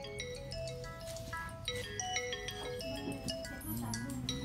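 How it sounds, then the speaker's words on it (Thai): A mobile phone plays a tonal ringtone melody, steady and fairly loud for several seconds, against a busy background during an outdoor meal of raw beef. "เสียงโทรศัพท์"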